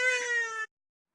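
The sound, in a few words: cat meowing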